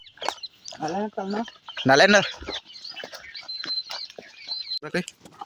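Jungle birds with rooster-like clucking call in short bursts, fairly close, around speech in a quiet outdoor setting.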